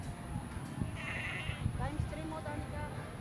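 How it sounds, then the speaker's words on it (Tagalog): Goats on a rural Philippine farm bleat a few times, brief nasal calls rising over steady outdoor wind and handling noise while people talk nearby. "Ayun yung mga kambing, guys."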